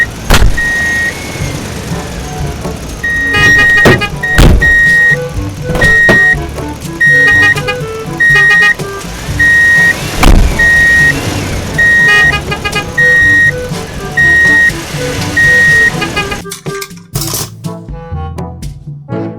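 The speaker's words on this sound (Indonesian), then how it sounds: "Lihat, ini dia mobil truk sampah" A toy garbage truck plays a loud electronic jingle, a repeated beeping melody in evenly spaced bursts over a busy mechanical background, ending in a short clatter.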